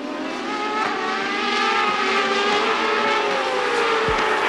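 Open-wheel CART Champ Cars race past the pit straight at the Cleveland Grand Prix, a continuous loud engine roar with shifting pitch as cars stream by, no voices.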